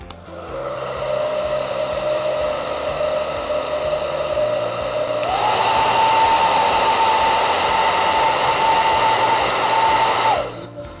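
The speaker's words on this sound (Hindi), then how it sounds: "आप इसको हेयर ड्रायर की मदद से भी कर सकते हैं" A hair dryer blows steadily to lift tissue paper, a loud continuous whir that steps up to a higher speed midway and then cuts off near the end.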